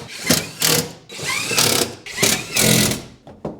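A power tool drives screws into a new metal panel in several close, loud bursts of whirring and ratcheting with brief pauses between them.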